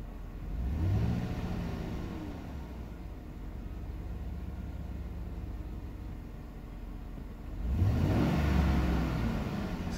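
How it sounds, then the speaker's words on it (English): A 2007–2014 Chevy Suburban with a 5.3L Vortec V8 and a low oil pressure fault runs with a steady, smooth engine hum. It rises in two short revs, one near the start and one near the end, with no speech. "See, the engine sounds strong."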